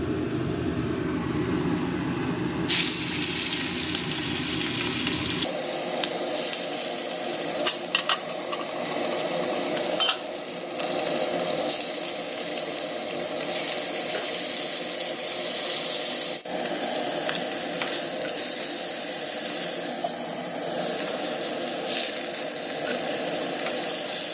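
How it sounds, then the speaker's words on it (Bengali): Fish sizzle steadily in hot oil in a pan, a continuous close frying hiss lasting throughout, broken by occasional stirring and clinks, with no voices. "মাছগুলো ভাজা হয়ে গেছে"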